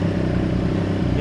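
A 2022 Triumph Street Triple RS with a newly installed exhaust idling, a loud, close, steady rumbling throb with no talk.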